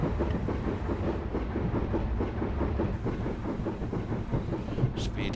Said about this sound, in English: Oh, I hear steam train going underneath